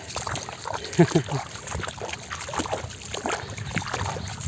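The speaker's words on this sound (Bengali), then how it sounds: "ধাক্কা দিয়ে নৌকা নিতে আছে" A boat pushed by hand through a village river next to a vegetable field: soft sloshing and trickling water under lively overlapping voices, with a brief bump near the start.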